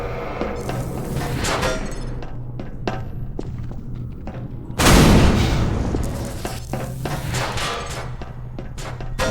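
Heavy thudding shots from automated turrets in Half-Life 2, irregular booming impacts with one loud, sustained blast midway, set against a steady low background hum.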